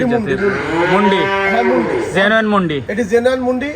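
A heifer on a dairy cattle farm moos loudly and close, several drawn-out calls in a row, with speech audible around them.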